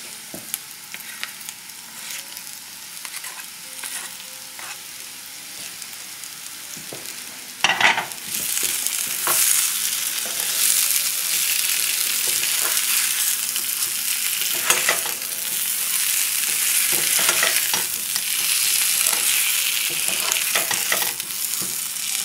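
Potatoes and onions sizzle and fry in a pan while being stirred, a quieter sizzle that turns to a louder, fuller frying hiss with scraping stir strokes once the onions go in.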